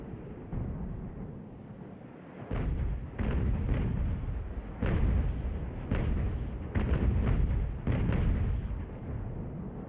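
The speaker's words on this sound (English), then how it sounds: "Would you like to fire at that enemy ship," Cannons fire at an enemy sailing ship in the age-of-sail naval game Ultimate Admiral: Age of Sail, a ragged volley of heavy booms, some single and some in quick clusters, over a constant low rumble of wind and sea.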